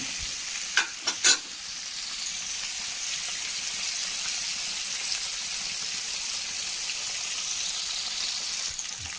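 Chicken tenders fry in a pan with a constant, close hiss and crackle of hot oil. A few light clinks of utensils sound near the start.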